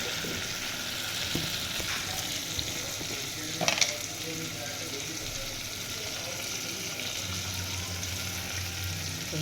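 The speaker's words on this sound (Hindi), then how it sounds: "इसे हिला देंगे" A spoon stirs drumstick kadhi in a pan, with a steady bubbling sizzle throughout and a brief clink against the pan partway through.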